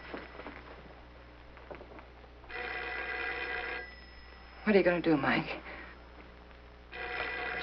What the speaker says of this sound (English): I can't answer the phone if I'm not here.